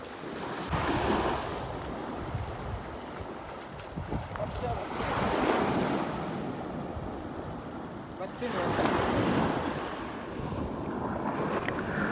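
Sea waves break on a beach in three long surging washes, loud and close, with strong wind buffeting the microphone while a cast net is thrown from the shore.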